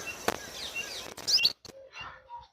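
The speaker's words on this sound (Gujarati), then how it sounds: "પક્ષીનો અવાજ કેવો સુંદર સંભળાઈ રહ્યો છે." Birds chirp and tweet at dusk outdoors, a few short bright calls scattered through a quiet evening, fairly close, with no talk.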